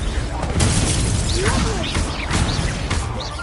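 The explosive Confringo spell is cast in the Hogwarts Legacy video game, with several crashing, booming impacts landing amid busy magical effects and whooshing tones.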